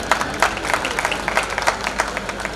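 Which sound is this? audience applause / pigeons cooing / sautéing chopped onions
audience applause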